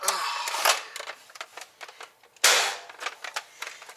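A Red Strike Longshot foam dart blaster fires twice, each shot a sharp close pop followed by rattling mechanical clicks and handling noises.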